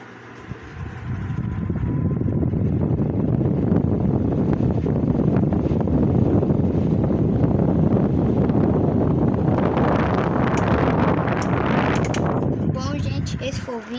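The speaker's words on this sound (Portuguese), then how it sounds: "Agora vamos ligar o Cadence." A Cadence electric appliance, plugged into a wall socket, switches on and runs with a loud, steady broadband whirring roar that holds for the whole span, louder and brighter near the end, with a voice briefly heard.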